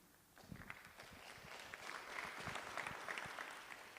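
Ceremony audience at a Freedom Month dialogue applauding, a faint, distant patter of many hands that builds and holds steady.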